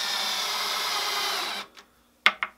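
A power driver runs a screw into a wall, giving a steady whirring buzz that cuts off, followed by a couple of sharp clicks or taps, close and loud with no voices.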